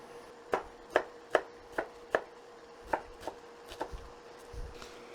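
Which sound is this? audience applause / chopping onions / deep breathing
chopping onions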